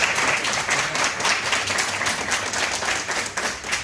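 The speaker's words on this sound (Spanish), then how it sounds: "Un aplauso para él." Steady applause from a crowd at an evening lecture, dense clapping that holds at an even level throughout, with no voices on top.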